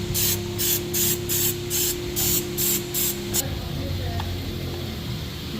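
Eight short bursts of aerosol cleaner spray onto a carbon-fouled Toyota Innova EGR valve, evenly spaced and close up, over a steady low engine-like hum, then the spraying stops and the hum continues with faint clinks.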